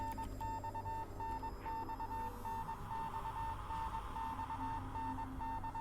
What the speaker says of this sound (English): X in Morse code